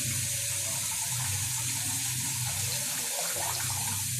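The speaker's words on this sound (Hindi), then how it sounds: "दाल में पानी शामिल कर दें" Water running from a tap into a pot of lentils for dal, a continuous close splashing stream at an even level with no break.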